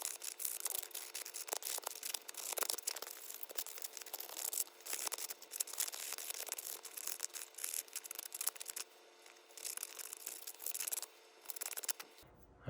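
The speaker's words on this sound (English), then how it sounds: "now we're just gonna scuff it up with some 220 sandpaper" 220-grit sandpaper scuffs the painted frame of an FPV drone in quick, faint, irregular rubbing strokes that go on close by without pause.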